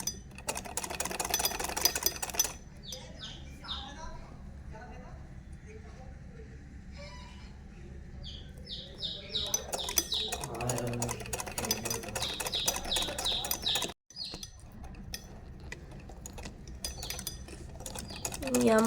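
Sewing machine stitching fabric from a corner, with bursts of clattering machine motion between stretches of someone talking over the work, briefly cutting out near the end.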